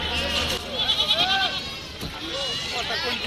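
Goats bleat at a busy goat market, several overlapping wavering cries rising and falling close by, with crowd noise and voices around them.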